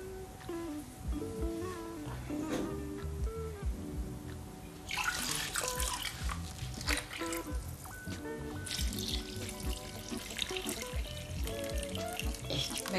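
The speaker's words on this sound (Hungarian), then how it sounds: "Annyi vizet öntött Elinéni hozzá, hogy majdnem elnepi a paprikákat." Water pours into a pot of tarhonya-stuffed peppers with tomato, a continuous splashing trickle that swells louder midway with bursts of gurgling, steady throughout with no talking.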